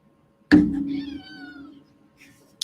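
A pet cat gives a single clear, drawn-out meow close by, fading over about a second, with a faint short sound near the end.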